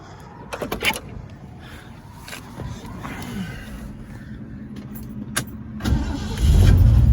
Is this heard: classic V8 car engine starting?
yes